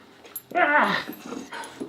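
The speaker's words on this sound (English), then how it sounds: "No barking." A dog gives a loud, close, drawn-out yelping bark followed by a few softer whimpering yips, indoors with no talk.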